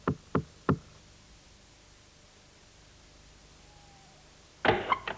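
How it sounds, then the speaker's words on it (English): Someone knocks on a door in three quick, sharp raps, then a pause in near silence, followed by a louder cluster of knocks. "There was someone knocking at his door."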